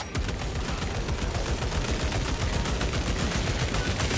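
Dense, continuous rapid gunfire from a bolt rifle in the Space Marine 2 video game, loud and unbroken for several seconds with no talk over it.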